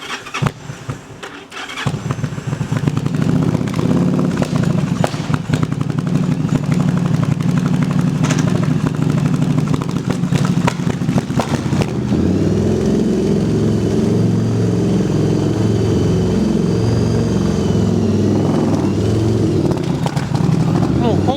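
A cold Yamaha V-Star 1100 motorcycle engine idles steadily while warming up, a low continuous rumble that holds close and loud for the whole stretch, with someone talking over it at times.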